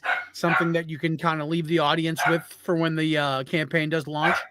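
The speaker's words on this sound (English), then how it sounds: "Sorry about the dog." A dog barks in the background throughout continuous close speech, with repeated yips and whimpering barks mixed under the talking voice.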